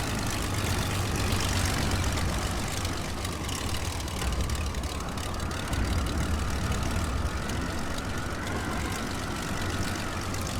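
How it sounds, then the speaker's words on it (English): A WWI aircraft engine throttled back in the Wings Over Flanders Fields flight sim, a steady, loud low drone running unbroken throughout with a faint rising tone layered above. "Let's not slow down the engine too much."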